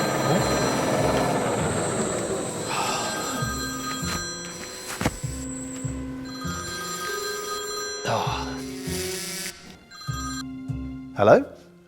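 A telephone rings repeatedly inside a workshop, a steady pulsing electronic ring recurring through the clip alongside faint background noise and brief knocks.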